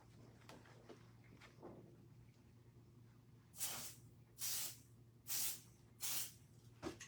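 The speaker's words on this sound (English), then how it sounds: "Let me just spray this a little bit more." A spray paint can hisses through a stencil onto a jean jacket in four loud, even bursts, each lasting about half a second, after a stretch of faint handling noises and a low steady hum.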